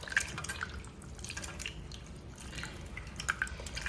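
Jamun fruit is mashed by hand in water for juice, giving soft wet squelches and light drips that come in small irregular bursts, close but faint.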